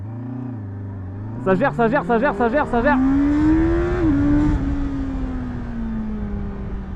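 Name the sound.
Honda motorcycle with E-Clutch accelerating from a standing start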